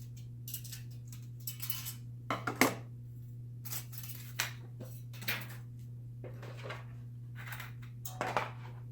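Scissors snip through thin sheet metal while an alcohol stove is being made, giving sharp irregular crunchy cuts, some in quick pairs, over a steady low hum, with no talk.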